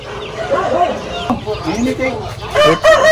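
Chickens on a farm cluck and a rooster crows, loud and close, with overlapping calls and a crow near the end, while a person talks alongside.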